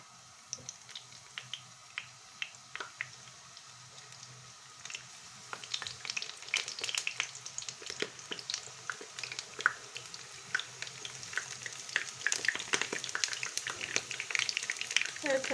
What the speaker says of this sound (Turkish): Güzelce ısındıktan sonra patlıcanlarımızı bu şekilde yerleştirelim.